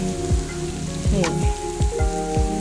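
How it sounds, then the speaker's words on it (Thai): Rain falls beside the Kok River in Thailand during a day of steady rainfall, a constant soft hiss with a series of repeated sliding chirps over it and no voices. "แต่วันนี้ก็ฝนกำลังตกอีกนะคะ"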